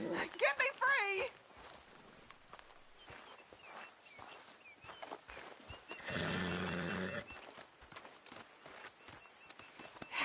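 A horse in Red Dead Redemption 2 whinnies briefly at the start, then soft movement sounds and a louder snorting, rumbling stretch midway, over quiet background.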